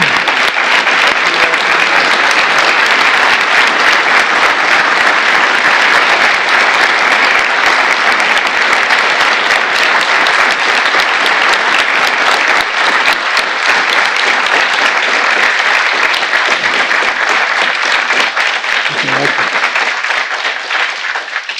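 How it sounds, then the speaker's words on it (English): A large audience gives sustained, loud applause for Medal of Valor recipients at a White House ceremony, dense clapping filling the whole stretch at an even level with no pauses. "let's give one last big round of applause to the recipients of"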